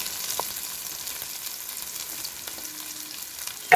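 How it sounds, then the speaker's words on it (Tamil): Onions and green chillies frying in oil for a crab curry, a soft steady sizzle running throughout with a brief clink near the end. "இப்போ வெங்காயம் போடணும் பச்சை மிளகாயும் போட்டுடணும்"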